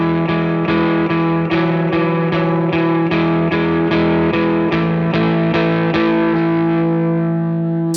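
An electric guitar with distortion and effects plays a song part, strumming steady eighth-note chords at a loud, even level with a shimmering, sustained tone.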